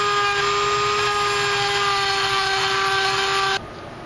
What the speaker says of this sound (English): I have to grind it until it matches that shape